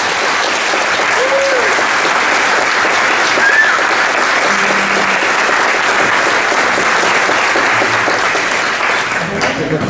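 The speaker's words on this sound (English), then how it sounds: "So a round of applause for everybody." A large crowd at a mayoral candidate debate applauds steadily and loudly for the whole stretch, dense clapping with a few faint voices underneath.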